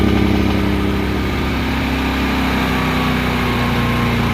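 A Predator 9500 gas generator runs with its choke left on, a loud, steady, close engine drone at slightly raised RPM with no pauses.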